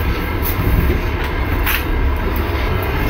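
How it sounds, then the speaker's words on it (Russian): Inside a moving train carriage near the compartments, a steady loud rumble with faint rattles and brief higher squeaks. "Вот наш вагон, наш чемодан, чтобы он нам в купе не мешался."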